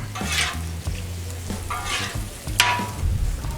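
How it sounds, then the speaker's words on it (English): Spicy shrimp stir-fried on a 36-inch Blackstone flat-top griddle: loud hissing sizzle rises in repeated bursts as the shrimp are tossed, with scraping and low rumbling handling noise close by. "This literally cooks really fast. Just go ahead and keep tossing your shrimp."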